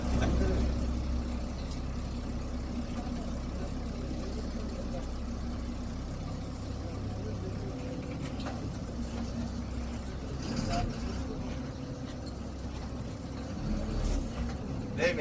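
A bus engine idles and rumbles at a steady low pitch close by, with slight swells in revving, while an MLA takes the wheel; people talk faintly over the engine noise.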